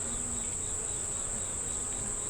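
Honey bees buzz on a hive frame holding eggs, brood, honey and nectar, a steady close droning hum with no talk.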